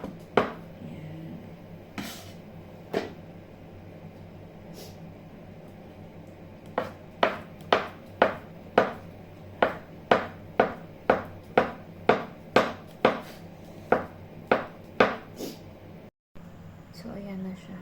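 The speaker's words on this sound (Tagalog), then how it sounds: "hiwain lang natin yung hotdog sa gusto natin paraan" A knife slices a hotdog on a cutting board in a home kitchen while making sopas, with a run of quick, evenly spaced close taps that speeds into a steady rhythm after a few scattered cuts.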